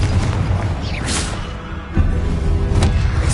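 A Confringo blasting spell is cast in the game Hogwarts Legacy, with a loud booming burst and whooshing swells over a dense, continuous rumble, followed by a sharp thud-like impact partway through.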